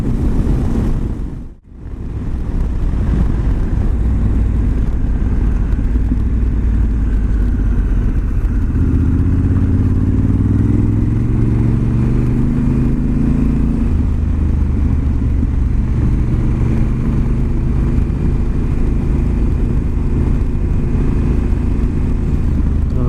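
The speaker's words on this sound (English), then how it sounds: "Can't really sneak around with this exhaust with the DB killer out" A Honda Africa Twin motorcycle with its exhaust DB killer removed rumbles loudly and continuously while riding, with one brief dip near the start and the engine pitch rising midway.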